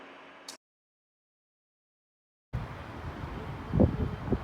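Wind buffets the microphone in low rumbling gusts, cutting out to silence for a couple of seconds before returning, louder, with a few heavier blasts.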